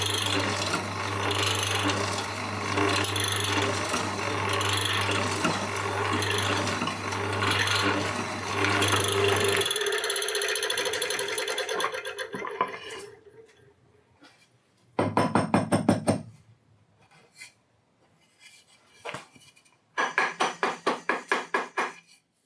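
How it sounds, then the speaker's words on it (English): A Charnwood W316 hollow chisel morticer working a mortise in wood: a long steady motor rasp with grinding, then quieter scraping and several sharp bursts of repeated ratcheting strokes near the end. "All this does is it removes most of the lines where the chisels cut through."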